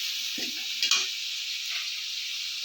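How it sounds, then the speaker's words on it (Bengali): Ginger, cumin, chili, tomato and a little onion frying in a pan as a spice mix, a steady loud sizzle throughout with a few brief stirring scrapes near the start. "মশলাটা দিয়ে খানিকক্ষণ কষিয়ে নেব।"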